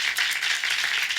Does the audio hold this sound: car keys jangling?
no